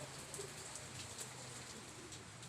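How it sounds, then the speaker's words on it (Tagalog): Heavy rain pours steadily as a dense, even hiss across the whole stretch, with a few faint bird coos in the background. "grabe ang lakas ng ulan"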